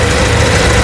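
A Mercedes-Benz 210 with its 2-litre 111 engine idles steadily up close, a low, even rumble with light vibration and no voices over it.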